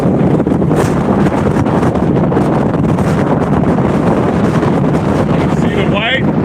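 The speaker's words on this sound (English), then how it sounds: "Oh man, big gust." A strong gust of wind at sea, recorded aboard a sailboat during a tropical storm, roars loud and constant across the microphone, with a brief voice near the end.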